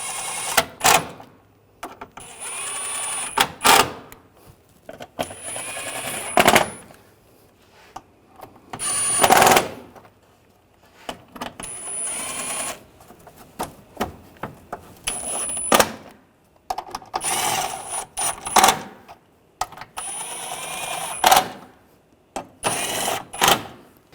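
A ratchet snugs down the oil cooler hose bolts on a 2009-2010 BMW 535i xDrive 3.0L L6, with repeated bursts of fast clicking strokes separated by short pauses, close and fairly loud.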